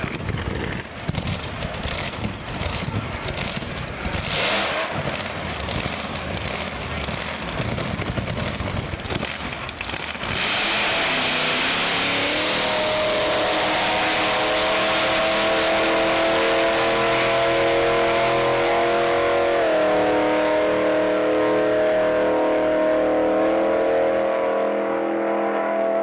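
A big blown-motor NHRA drag racing car roars loudly through a burnout and launch, with sharp crackling bursts early on, then a sustained heavy engine drone with rising and stepping pitch as it pulls away.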